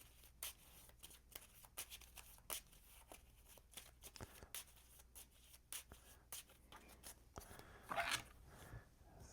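Playing cards being shuffled during a game of the Marvel Champions card game, a run of quick crisp riffling and shuffling bursts, close and fairly quiet, with no talk over them.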